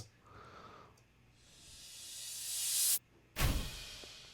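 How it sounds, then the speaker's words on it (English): A reversed cymbal swells upward into a sudden cutoff, followed by a bright cymbal crash that rings and decays; quiet overall. "Added in a few transition effects, which are just some reverse cymbals and then some cymbal crashes."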